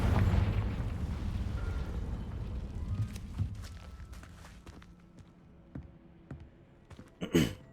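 A Confringo explosive spell goes off in Hogwarts Legacy: a heavy booming rumble that fades over a few seconds, followed by scattered footsteps and small impacts, with no speech.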